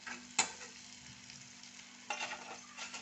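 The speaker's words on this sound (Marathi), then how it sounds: "हा टोमॅटो पण चांगला मॅश होईपर्यंत मी हा तेलात परतीचे" Tomatoes sautéing in oil until mashed for homemade pasta, giving a soft steady sizzle with a couple of brief stirring clacks from the pan, close and fairly quiet.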